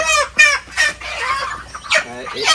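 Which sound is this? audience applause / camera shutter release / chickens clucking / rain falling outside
chickens clucking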